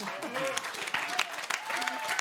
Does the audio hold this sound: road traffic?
no